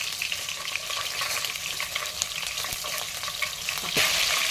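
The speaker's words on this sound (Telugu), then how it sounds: "చిటపడలాల్సిందే పచ్చిమిర్చి, ఏం భయపడదు." Green chillies splutter and sizzle in hot oil for a chicken curry, a steady dense crackle with scattered sharp pops and a brief louder burst near the end, no voices.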